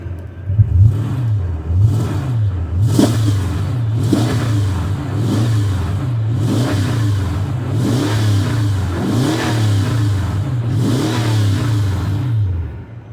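A Mercedes S550 engine revs repeatedly with a loud, raspy exhaust from a muffler delete, each throttle blip rising and falling in a steady rhythm, close by.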